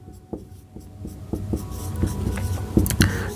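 Chalk or marker writing on a board while working a 12th-class physics problem: a close series of short taps and scratchy strokes in an irregular rhythm, growing slightly louder over about three seconds, with no talking.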